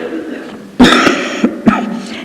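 Someone speaks, then breaks off with a harsh cough and a second, throaty cough, close to the microphone, during a 1982 speech.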